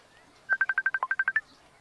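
A rapid string of about eleven telephone keypad tones beeps as a number is dialed on a phone, clear and close against a quiet background.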